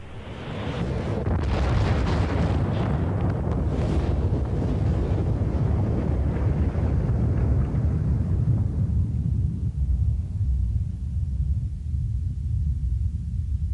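A deep, sustained rumbling roar for a supernova explosion swells early, holds heavy and loud, then slowly fades as the upper hiss drains away, leaving only low rumble.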